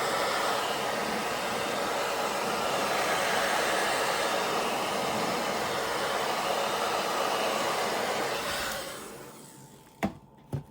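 Hair dryer drying paint on a fishing lure blows as a steady, close whooshing roar for about nine seconds, then switches off, followed by a couple of sharp clicks.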